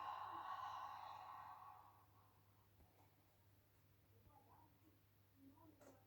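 A single long, airy exhale during a pilates ab and leg exercise, close and soft, fading over about two seconds into quiet room tone with faint movement noises.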